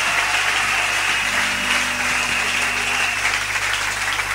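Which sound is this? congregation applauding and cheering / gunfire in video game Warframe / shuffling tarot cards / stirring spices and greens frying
congregation applauding and cheering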